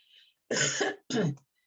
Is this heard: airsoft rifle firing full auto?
no